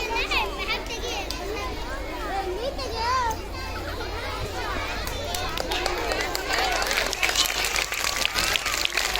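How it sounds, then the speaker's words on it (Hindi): Applause from a school audience at a Hindi Diwas celebration, steady and fairly loud throughout, mixed with children's voices and chatter in a lively hall. "जोर से तालियां बजाइए।"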